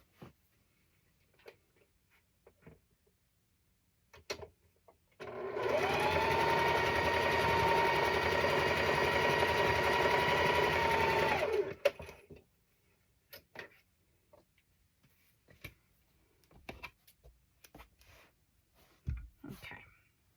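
A sewing machine runs in one continuous steady burst of about six seconds, stitching across the top of a Halloween and cat quilt block, loud and close, with quiet handling clicks and brief talk before and after.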